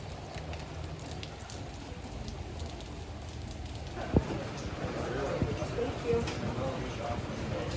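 Steady rain patters softly on surfaces in Acadia National Park, with a sharp knock partway through and the patter growing a little denser afterward.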